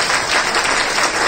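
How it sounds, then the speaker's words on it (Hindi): An audience claps steadily at a cultural inauguration event in Shalimar Bagh to welcome a singer to the stage: a dense, loud, even wash of many hands for the whole short stretch, with no voices. "थोड़ा तालियां करते हुए"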